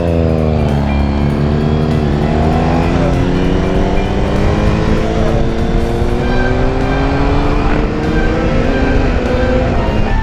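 A Triumph Daytona 675 motorcycle fitted with an Arrow exhaust rides past, its loud engine revving up through rising gears close by, with no talking over it.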